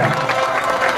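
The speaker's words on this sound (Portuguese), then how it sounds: "Salve de palmas, pessoal, por favor," A crowd at a rap battle event applauds in a loud, dense burst of clapping and crowd noise, close and continuous through the brief moment.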